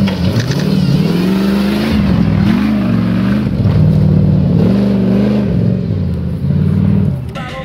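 A short-wheelbase Nissan Patrol off-road vehicle revs loudly and close by at the Orava off-road event in Slovakia. Its engine climbs and falls in repeated surges over a constant roar.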